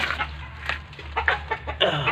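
Chickens cluck in short, scattered bursts over a steady low hum, fairly close, with several calls spaced irregularly across the moment.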